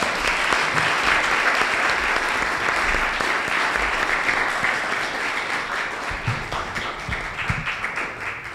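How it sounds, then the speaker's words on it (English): An audience applauds a lecturer at an annual distinguished biomedical lecture, with steady, dense clapping that stays loud throughout and shows a few sharper individual claps near the end. "Please give a round of applause for Dr. Klasko."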